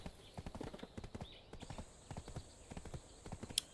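Steady, rhythmic clip-clop of horse hooves in the online game Black Desert Online, quick even footfalls at a trotting pace, close and clear with no talk over them.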